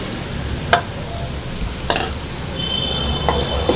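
Tomatoes and curry leaves fry in a pan for broad bean (avarakkai) kara kuzhambu: a close, steady sizzle with a few sharp spoon-on-pan scrapes and clinks as the mix is stirred.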